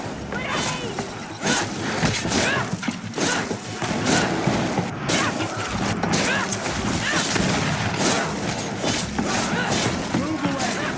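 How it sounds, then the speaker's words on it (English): A grenade explodes amid combat in the video game GreedFall. Loud, dense booms and crackling battle noise continue throughout, mixed with in-game voices. "Watch out! Grenade!"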